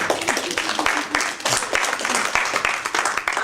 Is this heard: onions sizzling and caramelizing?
no